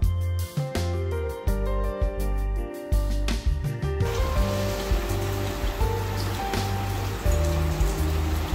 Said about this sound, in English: It's still raining guys